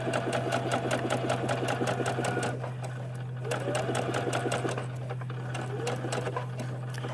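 Sewing machine stitching a concealed zipper, running in fast regular bursts with a close, even mechanical chatter, pausing briefly midway before resuming, with a steady low hum underneath and someone talking over it.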